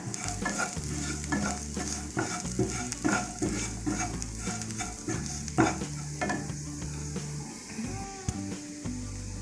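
Vada koottucurry for a Kerala sadya being stirred with pepper powder, a spoon scraping and knocking in a rhythmic series of strokes over a soft sizzle, close and fairly loud with no talking.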